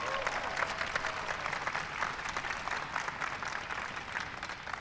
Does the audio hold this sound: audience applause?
yes